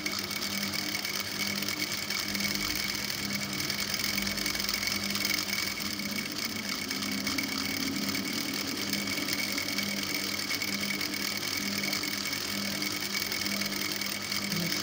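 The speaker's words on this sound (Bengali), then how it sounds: "আমি এবার সেলাইটা দিয়ে দেব।" A sewing machine stitches a palazzo skirt in a steady, continuous mechanical whir and rapid needle clatter, close and even throughout, with no talk.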